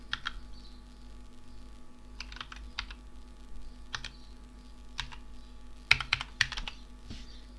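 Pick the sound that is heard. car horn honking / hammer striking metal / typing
typing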